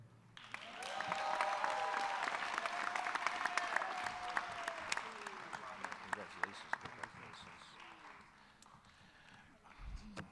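Applause at a summer graduation ceremony rises quickly and sustains for several seconds, mixed with cheering voices, then thins and fades near the end; overall fairly distant and soft.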